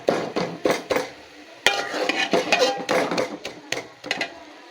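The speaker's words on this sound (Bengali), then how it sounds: "এই পর্যায়ে আমি শাকগুলোকে এভাবে গালিয়ে দেব" Cooked red amaranth greens with green chilies being mashed in a pan, a run of irregular soft knocks and scraping taps of utensil against metal, close and fairly loud, with no talking.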